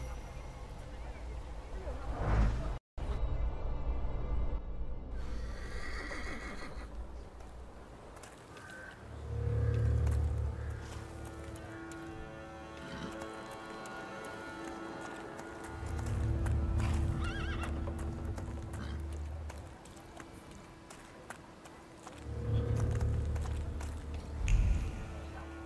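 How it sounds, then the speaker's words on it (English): A horse whinnies several times in the video game The Thaumaturge, with clip-clopping hooves and ambient game sounds beneath. The neighs come in loud bursts spread across the clip. "I meant to take the horse out for a ride"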